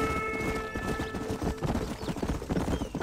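Horse hooves gallop in the Red Dead Redemption video game, a fast steady clip-clop running close and loud throughout, with occasional whinny-like tones over a faint musical drone.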